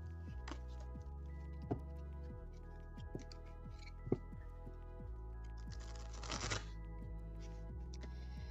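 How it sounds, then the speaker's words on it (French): Oracle cards are shuffled and drawn close by with soft riffling and light taps, and a brief flurry of shuffling comes near the end over a steady background hum. "on va tirer les dernières cartes avec l'oracle Zen"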